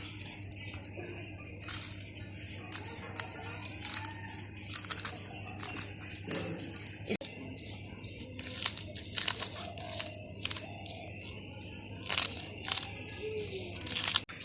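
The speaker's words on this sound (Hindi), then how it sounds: "तो अब इसकी डंठल को हम काट देंगे। तो अब इसी तरह हम सारे डंठल को काट लेंगे।" Knife chopping taro (arbi) leaf stalks in a kitchen, quiet irregular crunchy cuts and crinkling bursts spread over several seconds against a low steady hum, with no talking.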